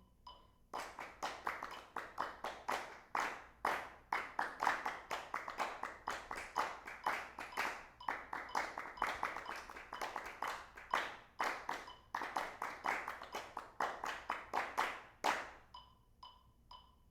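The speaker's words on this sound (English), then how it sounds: "we will have the group clap their rhythm without instruments" A small rehearsal group claps a rhythm together without instruments against a metronome, sharp close hand claps in a steady repeating pattern for about fifteen seconds before stopping, leaving faint metronome ticks.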